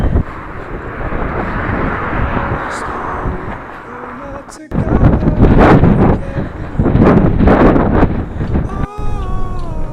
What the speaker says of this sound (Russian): Просто жесткий ветер.